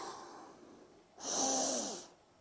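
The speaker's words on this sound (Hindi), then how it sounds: "ऐसे इनहेल करना है।" Someone draws a single strong breath through the nose over a bowl of steaming water, a short rushing inhale after a quieter stretch of soft breathing.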